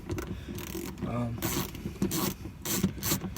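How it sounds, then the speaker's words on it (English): A screwdriver or ratchet backs out the screws holding a car's factory head unit behind the removed dash faceplate: close, quiet scraping, clicking and rubbing in short uneven bursts. "so I'm just taking out the 4 screws that hold the factory head unit in"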